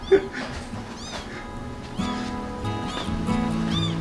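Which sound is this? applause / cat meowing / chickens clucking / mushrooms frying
cat meowing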